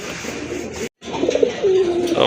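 Pigeons coo at a bird market where birds are on offer, soft throaty calls repeating close by with one brief gap of silence partway through.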